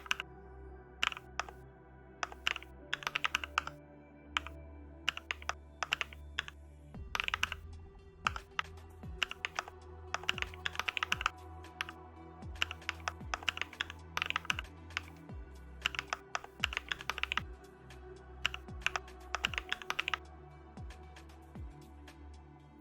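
Someone types HTML heading code on a computer keyboard, with quiet, close key clicks coming in quick irregular bursts and short pauses, over a low background hum, with no speech.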